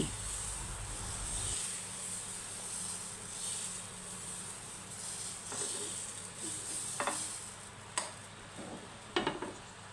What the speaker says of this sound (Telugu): బ్యాటర్ను ఒక గిన్నెతో తీసుకొని పెన్నం మీద వేసుకొని నెమ్మదిగా అంతా స్ప్రెడ్ చెయ్యండి.